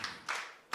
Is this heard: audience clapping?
yes